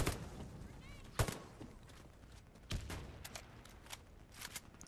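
Sporadic gunshots in the video game Warface, a few sharp isolated cracks and short bursts spread over several seconds, fairly faint amid game ambience with no voices.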